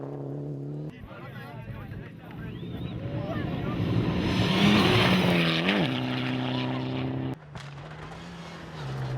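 A Mitsubishi Lancer Evo 10 rally car drives a fast open stage of the 2013 Safari Rally in Kenya, its engine note rising and falling as it passes, with a commentator talking over it.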